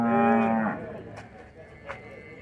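At a traditional livestock fair in São Bento do Una, one cow gives a single drawn-out moo nearby, then faint pen noises follow.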